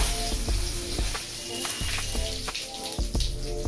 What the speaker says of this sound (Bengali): তেলটা গরম হয়ে গেছে। এবার আমি ফোড়নগুলো দিয়ে দেব। তেজপাতা,